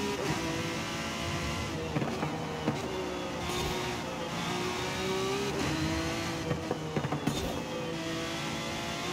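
A fast car's engine hums and revs steadily from inside the cabin, with rising tones as it accelerates and a few sharp thumps and bumps from the road.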